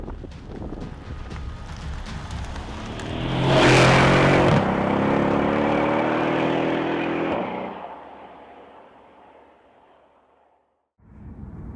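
A 2015 Mercedes-Benz SL63 AMG 2LOOK Edition (R231) roadster's V8 engine revs up and accelerates hard, loud and close, peaking sharply partway through, then fading away to near silence before a brief restart of sound.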